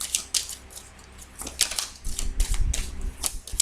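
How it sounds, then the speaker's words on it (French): Tarot cards drawn and handled at close range during a reading, with a brisk run of crisp flicks, snaps and rustles, some thumping against the table, fairly loud and without talk. "Allez, nous allons nous tirer encore quelques cartes."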